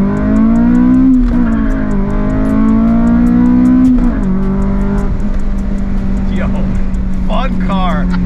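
A 2002 Acura RSX Type S pulls away in first gear on a road in Mexico, its engine note climbing loudly and steadily before a shift, with people talking over it inside the cabin.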